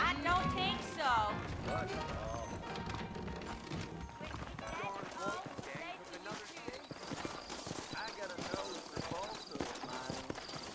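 Horses' hooves clip-clopping in the Red Dead Redemption video game, a busy run of hoof beats under a music score and game ambience, with a horse's whinny near the start.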